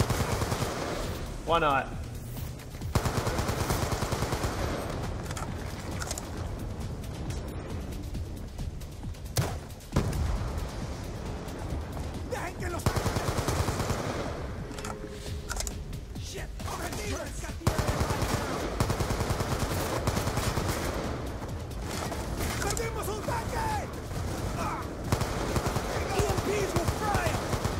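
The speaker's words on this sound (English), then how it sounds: "Ooh, the AN-97. Or AN-94." AN-94 assault rifle gunfire in the Black Ops 2 shooter game, with dense, repeated bursts and booming shots running through most of the stretch, mixed with game effects and occasional talking from a player.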